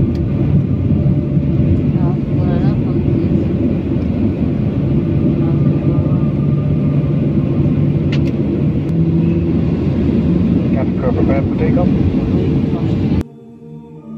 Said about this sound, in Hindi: जहाज़ ने टेक ऑफ शुरू किया।